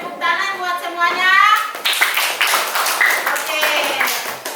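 Students in a classroom clap together after a lesson, brisk irregular claps running through most of the span, with a voice and children's chatter mixed in at the start.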